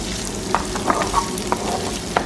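Rice pilaf sizzles steadily in a pan at home while a spoon stirs it, giving a few sharp scraping clinks over the constant frying hiss.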